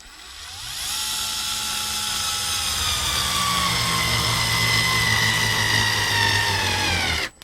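Black and Decker Gyro cordless screwdriver driving a screw, a steady high motor whine that spins up, holds with a slowly falling pitch for several seconds as it loads, then cuts off abruptly, close and alone.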